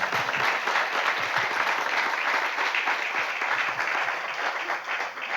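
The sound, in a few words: congregation applause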